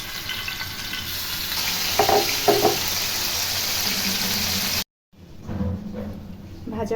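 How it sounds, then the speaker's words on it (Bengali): Chicken pieces fry in hot oil in a pan, a dense, loud, continuous sizzle with brief voice-like sounds partway through, then an abrupt cut to silence and a quieter stretch of frying afterwards. "তেল দিয়ে নিচ্ছি, কারণ মুরগির মাংসটা এখানে ভেজে নিব।"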